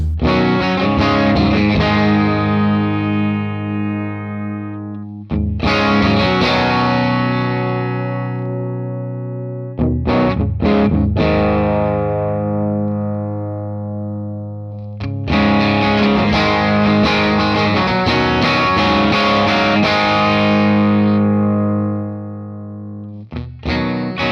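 Distorted electric guitar chords through an Axe-Fx III Morgan AC20 Deluxe amp model with the high cut raised, giving a muffled, dark tone, strummed in long ringing bursts separated by brief pauses.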